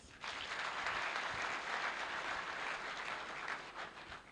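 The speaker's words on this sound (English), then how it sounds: "Please, let's give him a round of applause." An audience at a combined convocation ceremony applauds steadily for several seconds, a dense sustained clatter of many hands in a large hall, with no talking over it.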